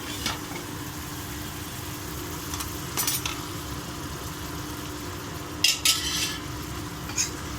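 Gourd with onion being stirred in a pot for a chana dal curry, with a few scattered spoon scrapes over a steady low background hum, fairly faint and with no talking.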